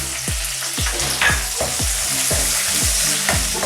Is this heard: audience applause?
no